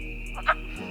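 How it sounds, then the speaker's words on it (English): A single brief wood frog croak stands out close by against a steady low background hum, part of a chorus of about fifty wood frogs calling at a breeding site. "There's about 50 wood frogs calling"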